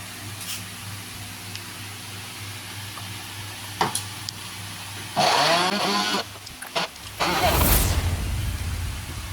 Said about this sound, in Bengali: আপেলগুলিও গ্রাইন্ড করে নেব